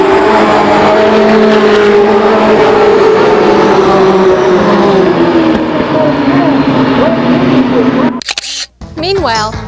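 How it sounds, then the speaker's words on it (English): Race cars roar around Lake Geneva Raceway in 1993, a loud continuous engine drone with rising and falling pitch as cars pass, under steady commentary, ending with a few sharp clicks. "car number 9 jumped out to an early lead with a host of others in hot pursuit"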